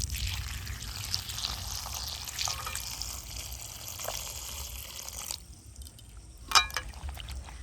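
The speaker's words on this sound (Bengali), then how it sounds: "পাত্রের মধ্যে এই খোসা ছাড়ানো কাঁঠালের দানাগুলো ভালো করে নিয়ে নেব। নিয়ে এবারে পরিমাণ মতো জল দিয়ে দেব।" Water poured from a vessel onto peeled jackfruit seeds in a cooking pot, a soft, continuous splashing pour that stops partway, followed by a few faint drips and clinks.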